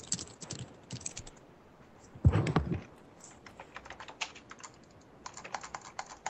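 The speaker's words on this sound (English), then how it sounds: "his typing's coming through the mic" Keyboard typing leaks through a voice chat microphone during an online StarCraft-style match: quick bursts of clicky keystrokes in short clusters, with a louder clatter near the middle, fairly faint and compressed by the mic.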